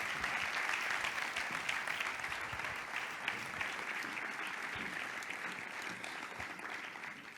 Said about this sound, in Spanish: Yo creo que necesita un fuerte aplauso